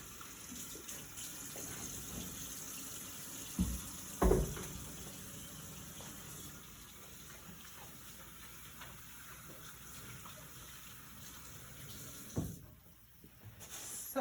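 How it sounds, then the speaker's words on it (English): Tap water flows steadily into a kitchen sink while hands are washed free of pizza sauce, a continuous moderate splash with a few louder thumps and handling sounds. "I'm just gonna wash my hands quick again because I got pizza sauce all over them."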